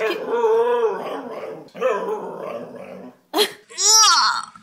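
A whippet barking and yelping in a few sharp, close bursts with brief whines between them, loud and alone.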